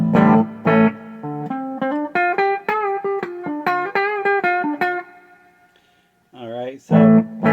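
Electric guitar played through a 1982 Peavey Bandit amp with the reverb lowered, a clean run of single notes and chords that rings out loud and close, a brief pause, then a slide and more strummed chords.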